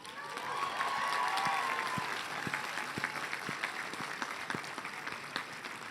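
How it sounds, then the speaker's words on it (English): Graduates applauding at a university graduate commencement ceremony, a broad, sustained wash of clapping from a large crowd in a reverberant space, with scattered sharper claps standing out as it slowly eases. "I ask the class of 2017 to give them a round of applause"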